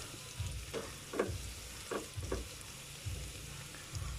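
Garlic and onion sautéing in a pan for a Kapampangan bitter melon stir-fry: a soft, steady sizzle with periodic low scraping stirs of a spatula, quiet and close.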